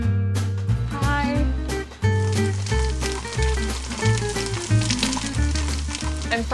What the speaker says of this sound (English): I'm frying some mushrooms now